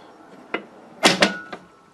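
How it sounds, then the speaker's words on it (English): Cab door of a 1962 Stock London Underground train cab simulator being handled, with a few sharp knocks and a louder double clunk-rattle as it shuts, close by in a quiet room. "So we have got a cab door put on there now."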